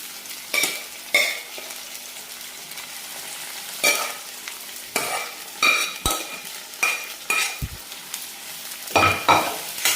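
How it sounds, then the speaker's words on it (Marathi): Cooked mutton liver stirred into sizzling onion-tomato masala in a kadhai, with a spoon scraping the pan in repeated short strokes over a steady frying hiss. "तर आता ही शिजवलेली कलेजी आपण टाकून घेऊ"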